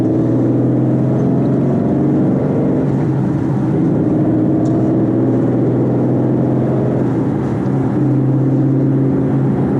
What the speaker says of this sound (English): Engine's still really cold.